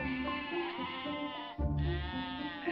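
Huanghuai goats from a herd of about a hundred bleat nearby: one long, wavering call, then a second, louder bleat from another animal overlapping it.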